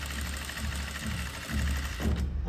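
A sewing machine stitches fabric in a continuous fast mechanical whir with a rhythmic clatter, briefly easing and then running on loud and close.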